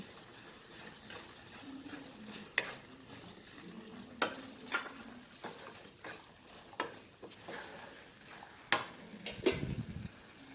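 A spoon stirs scrambled egg into a simmering green pea masala curry in a pot, scattered clinks and knocks against the metal over a soft sizzle, ending in a louder scraping rattle.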